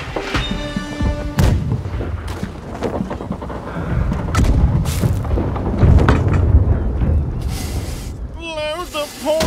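Cannons fire in the naval video game Blackwake, heavy booms and thuds rolling one after another over a busy battle din, with voices shouting in between.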